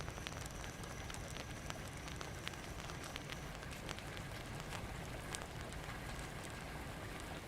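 Rain beginning to fall in the game Warlord: Britannia, a steady soft hiss of many small crackling drops patting down evenly and fairly faintly throughout, with no one talking.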